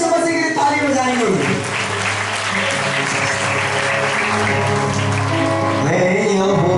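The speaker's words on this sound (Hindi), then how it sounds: "जोरदार यीशु मसीह की ताली बजाएंगे।" Church congregation clapping loudly and steadily in rhythm through worship music and singing, the clapping layered under voices and instruments for the whole stretch.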